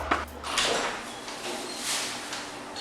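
A door being opened or closed, a short clunk and scrape followed by rattling movement, fairly close and loud, with no talking over it.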